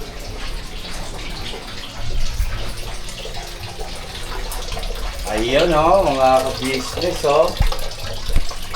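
A water faucet runs steadily in a household bathroom that has a tap and a toilet. Talk comes through over the broadband hiss of the water.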